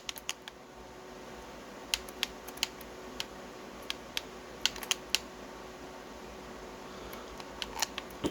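Computer keyboard typing during PC gaming on a Windows XP computer: scattered sharp key clicks and taps, some in quick clusters, irregularly spaced over a steady fan-like background hum, close and fairly crisp.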